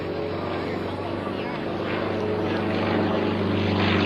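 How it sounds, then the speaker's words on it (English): Aerobatic airplane climbing for altitude at an air force base open house, a steady droning engine and propeller roar that swells gradually, with an announcer's voice over it. "Now, Drew's climbing for altitude"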